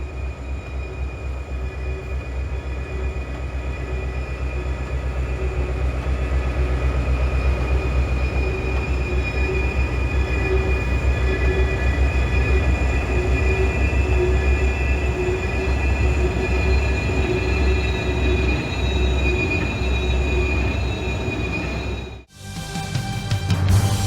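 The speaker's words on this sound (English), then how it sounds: "After Coleman Siding, the train enters the loops as we know them." A train running through the Old Fort Loops rumbles steadily while its wheels squeal in long, sustained high tones, loud and continuous, before the sound briefly drops out near the end.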